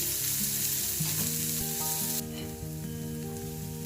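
Finely chopped onion frying in a pan for vegetable paniyaram sizzles steadily while being stirred, the hiss dropping noticeably halfway through, with faint sustained tones running underneath.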